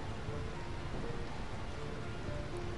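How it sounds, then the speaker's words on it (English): Steady rain falls in the Final Fantasy IX video game, a constant soft hiss with no voices, even and unbroken throughout. "I find this rain quite pleasant."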